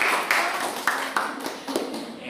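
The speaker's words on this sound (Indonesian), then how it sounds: "Berikan tepuk tangan dulu" Classmates clapping hands in a classroom, a modest spatter of claps with a few louder individual slaps standing out, tapering off toward the end.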